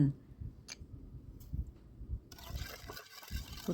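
Ingredients for a dipping sauce for steamed chive dumplings are poured together into a bowl, with faint trickling liquid, light clicks and a soft mixing clatter at low volume.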